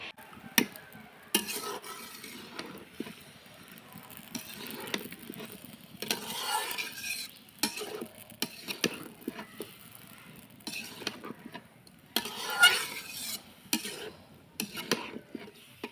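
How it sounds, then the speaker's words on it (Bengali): Spiced meat is stirred and scraped in a pan on a stove, in repeated scraping and clattering bursts over a quiet, low sizzle. "এখন চোড়ার উপরে বসিয়ে দিয়ে হালকা হালকা করে সবগুলো মাংস ভালো মতো নাড়াচাড়া করে নিতে হবে"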